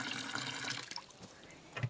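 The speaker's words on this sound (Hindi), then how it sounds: "मैं भर रही हूँ वहाँ पे पानी टंकी से बर्तन में" Water pours from a tank into a vessel, a steady broadband splashing rush that fills the first half, then thins and quiets before a brief louder splash at the end.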